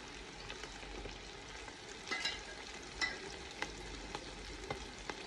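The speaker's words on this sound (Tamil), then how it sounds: "போட்டு நல்லா மிக்ஸ் பண்ணுவோம்" Chili powder and ginger garlic paste being mixed into sizzling biryani masala for beef biryani, a faint close sizzle with soft scraping strokes of a spoon at irregular intervals.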